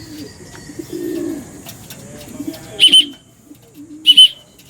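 Racing pigeon arriving at a loft: soft low cooing up close, with a couple of sharp bright chirps or whistles standing out against a quiet background.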